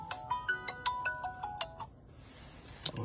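A telephone rings with a melodic electronic ringtone, a quick run of bright, beeping tones for about two seconds. A voice is heard briefly just after the ringing stops.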